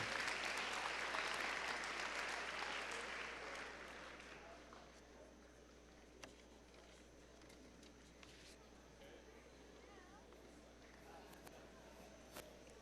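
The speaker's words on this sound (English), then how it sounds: "Let's give these students another round of applause." Audience applause for students at a high school honors awards assembly, loud and dense for about four seconds before thinning out to scattered claps and a quieter room with a few sharp knocks.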